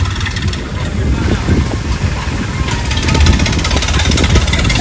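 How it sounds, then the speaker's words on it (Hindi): Tractor engine rumbling past on a road in rural India, a steady low-pitched drone with wind buffeting, moderately loud throughout; traffic noise and voices in the background. "ट्रैक्टर देख लो कैसे आते हैं,"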